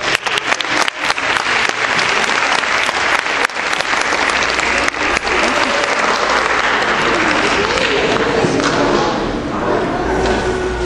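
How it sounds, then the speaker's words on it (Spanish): Loud, dense applause from an audience welcoming a speaker at a school talk on money and sustainability, continuous and close, with occasional sharp thumps in the mix, gradually softening near the end. "Vamos a darle la bienvenida con un aplauso"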